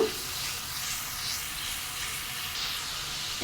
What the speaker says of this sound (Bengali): দেব একটু পানি দেব একটু আধা চামচ হলুদের গুঁড়ো ভালোভাবে একটু কষিয়ে নেব